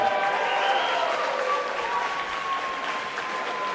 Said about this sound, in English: How about a round of applause for both these guys?